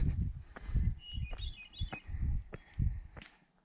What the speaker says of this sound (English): You can hear the thrush is singing.